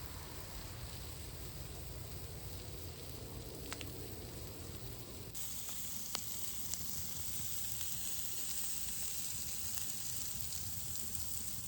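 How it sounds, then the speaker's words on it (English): Seasoned onions sizzling on the hot side of a Blackstone griddle, a steady broad hiss like light rain that brightens partway through, with a couple of faint clicks and no voices. "You just pretty much saute them, but on the griddle, you want to let them go over here on the hot side"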